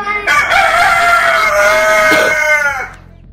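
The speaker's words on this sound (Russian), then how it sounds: "Да, маленький цыпленок, а вон еще яйца натаскали" A rooster crows loudly and up close, one long drawn-out call that holds steady before trailing off into silence.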